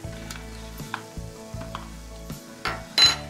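A spoon stirs boiling water with vinegar added in a pot, giving a run of close, repeated scraping and clinking strokes over a bubbling hiss, ending in a louder clatter.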